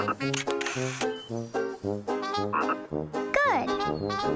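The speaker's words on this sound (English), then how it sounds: "It's a common tree frog." A common tree frog in a kids' cartoon gives a run of rapid, bright, repeated croaks, close and lively, with a rising squeaky call near the end.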